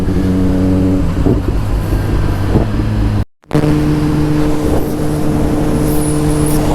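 2024 Kawasaki Ninja ZX-10R motorcycle accelerating on a road ride, a loud close engine drone with rising pitch, a brief cut in the middle, then a steady roaring pull.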